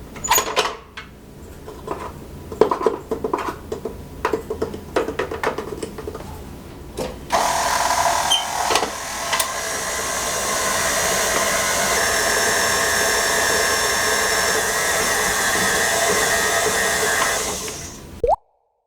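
Tart dough being mixed after the flour goes in: a run of wet plops and clatter from the bowl, then a steady, loud whirring mixer that runs evenly for about ten seconds before cutting off.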